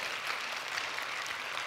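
An audience at a beauty product training session claps steadily, a dense even patter that is moderately quiet and slightly distant, with no clear talk over it.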